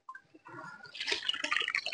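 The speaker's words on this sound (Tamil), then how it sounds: "இப்போ வந்து தண்ணி ஊத்தியாச்சு" Water poured into a pot of rice while cooking biryani, a short splashing pour that builds into a steady, bright trickle and gurgle over about two seconds, close by.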